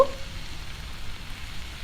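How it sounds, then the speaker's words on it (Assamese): Two large chopped tomatoes frying in a pan for restaurant-style butter chicken, giving a soft, steady sizzle with no talking. "বিলাহীখিনি অলপ টাইম ভাজিম"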